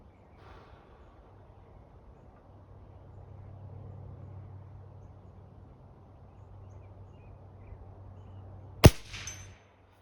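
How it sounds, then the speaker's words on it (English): A Benjamin 397S pump air rifle fires with one sharp crack near the end, followed by a brief metallic ping from a metal ram silhouette target, after a quiet stretch of low outdoor hum. "I'm going to shoot at the ram on the left."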